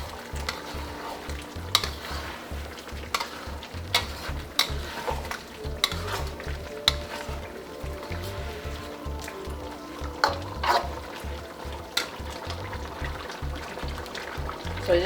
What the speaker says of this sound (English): Make sure to stir it because you don't want anything to stick to the bottom.